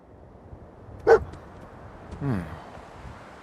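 Dogmeat, the dog companion in the Fallout 4 video game, gives a short bark, then a softer whining yelp a moment later, faint over a low game background.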